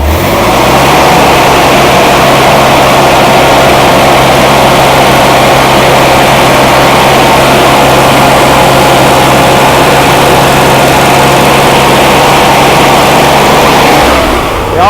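An old Rampy engine running on its first start, roaring loudly and steadily up close for the full duration with a constant low hum and no pauses.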